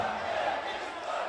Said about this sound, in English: he's receiving magnificent support from this crowd here at the Humo Arena